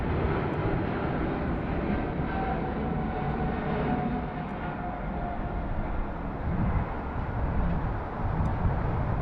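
Boeing 777 airliner engines at Sydney Airport on a high-wind day, a steady loud roar lasting throughout with broad rumbling noise and no talk over it.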